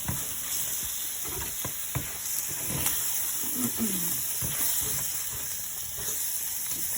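Spaghetti noodles hit hot oil in a skillet, giving a constant loud hiss and sizzle with scattered clicks and scrapes of stirring throughout.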